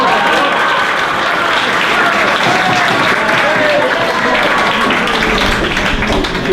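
Audience applause in a French-speaking hall, a dense, steady wash of many hands clapping loudly for the whole stretch, with cheers and voices mixed faintly underneath.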